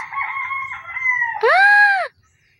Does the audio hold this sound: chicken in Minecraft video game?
yes